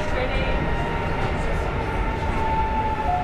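A passenger train with huge windows rumbles along the rails near Montreux, a steady loud interior roar and rattle throughout, with a faint tone rising briefly above it.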